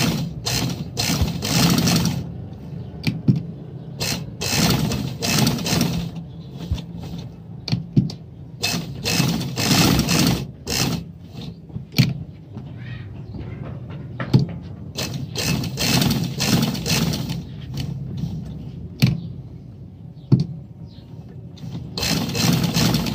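A sewing machine stitches a decorative design on a gents' shalwar kameez in bursts of rapid mechanical clatter, stopping and starting repeatedly with short quiet gaps between runs, loud and close.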